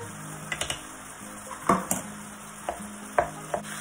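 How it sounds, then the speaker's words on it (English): Ground meat with tomato paste, oregano and Worcestershire sauce cooking in a pan for a shepherd's pie, with a scattered run of utensil clinks and scrapes against the pan over a low, steady sizzle and no voices. "that's been sauteing with the tomato paste for like 3 minutes"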